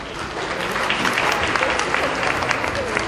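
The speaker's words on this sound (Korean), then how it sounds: "다시 한번 큰 박수 부탁드립니다" An audience claps warmly at the Web Award Korea ceremony, a dense, steady burst of applause filling the hall without pause.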